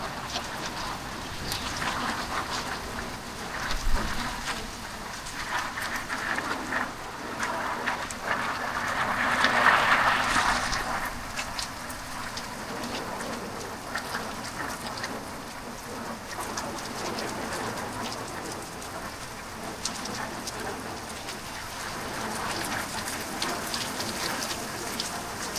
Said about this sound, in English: Man, the rain is just getting intense.